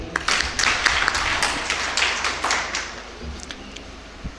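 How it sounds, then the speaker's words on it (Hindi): Audience applause at a Haryana newspaper event, many hands clapping in a dense burst that stays steady for several seconds, then thins toward the end, with no talk over it. "इसके लिए ताली हो जाए।"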